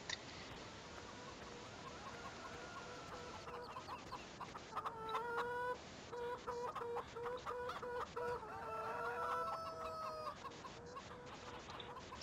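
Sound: chickens clucking in video game Farming Simulator 17

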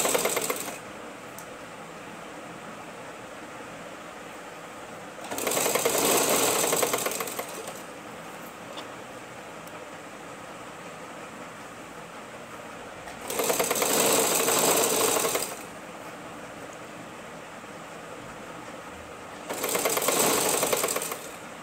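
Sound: sewing machine stitching fabric lining

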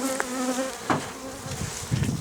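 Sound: honey bees buzzing at hive

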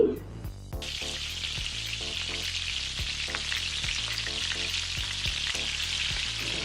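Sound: vegetable stalks frying in oil

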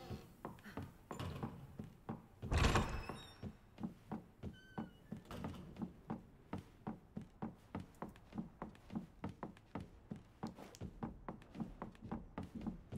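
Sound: Mr. X stomping footsteps upstairs in Resident Evil 2 Remake video game

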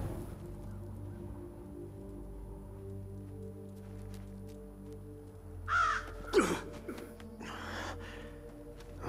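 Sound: bird (crow) cawing in the video game For Honor

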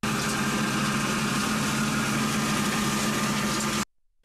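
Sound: tractor engine running a hay threshing machine

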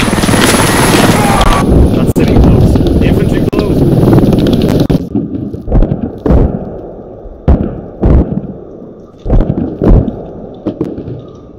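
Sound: helicopter in the video game Squad

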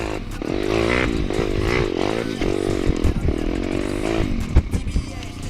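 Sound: Geon X-Ride 190 pit bike engine riding in third gear

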